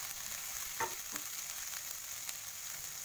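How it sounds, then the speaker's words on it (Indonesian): Blended dried chili sambal frying in a pan for ayam sambal, a soft steady sizzle with a couple of faint stirring clicks, fairly quiet and with no talking. "kita masukkan pula sambal cili kering yang saya blend"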